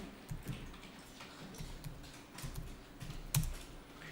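Keyboard typing while entering a purchase record for a computer bought with a Hyundai card, the amount 572,000 keyed in; light irregular key taps, moderately close, over a faint low hum with no speech.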